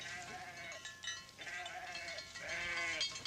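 Family sheep and goats grazing on pasture among cornfields bleat in repeated wavering calls, three drawn-out cries in a row, moderately near with a faint outdoor hiss underneath.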